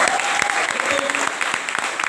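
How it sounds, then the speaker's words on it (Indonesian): An audience at a youth-week revival service applauds a vocal group, steady dense clapping throughout with a faint voice and crowd murmur underneath. "Sekali lagi tepuk tangan dulu dong"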